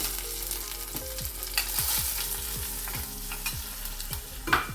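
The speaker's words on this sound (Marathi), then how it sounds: "थोडी मोहरी टाकून घ्यायची लसूण टाकायचा दोन मिरची टाकायची थोडा हिंग घालून घ्यायचा" Mustard seeds, garlic, chillies and asafoetida are tempered in hot oil, giving a steady sizzle with crackling pops and repeated scraping strokes of a stirring spoon against the pan, close up with no talking.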